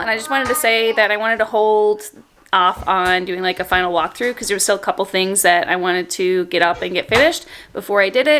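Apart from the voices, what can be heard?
No everyday noises stand out.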